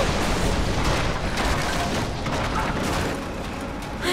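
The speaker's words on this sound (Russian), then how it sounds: "Они разбили врата" Heavy crashing and rumbling booms as gates are smashed in the Rise of the Tomb Raider video game, a loud dense roar throughout that eases slightly toward the end.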